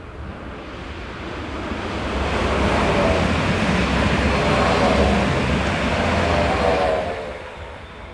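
A heavy eastbound freight train hauled by Swiss locomotives 620-010 and 074 rumbles past on the main line near Olten, building to a loud, steady roar and then fading away.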